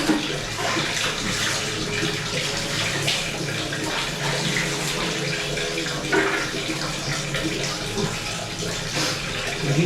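Water running steadily from a tap in a bathroom while someone washes their face, a continuous close splashing wash with no pauses.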